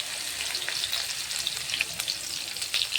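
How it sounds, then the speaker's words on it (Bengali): Cumin seeds and chopped green chilies crackle and sizzle in hot frying oil left from browning potatoes, a steady dense hiss with scattered sharp pops throughout, close and fairly loud with no voices. "এই তেলেই আমি জিরে ফোড়ন দিলাম, লঙ্কা কুচি করে রেখেছিলাম, কাঁচা লঙ্কা"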